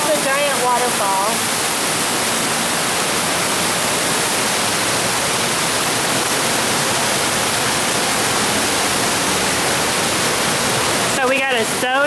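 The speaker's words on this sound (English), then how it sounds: "There's the giant waterfall." Giant waterfall inside a cave, a loud, unbroken roar of falling water that fills the space throughout, with faint voices at the start and end.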